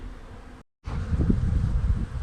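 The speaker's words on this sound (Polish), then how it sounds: "pierwsze pszczoły, które przynosiły pyłek" Honeybees buzzing around the microphone at an apiary amid wind rumble, a steady droning hum interrupted by a brief dropout.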